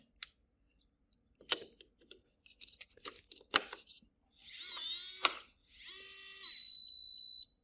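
A Veise fingerprint digital deadbolt door lock gives a few sharp clicks and taps, then sustained electronic beeping tones around its reset, the last a steady held beep lasting over a second, close and clear with no talking.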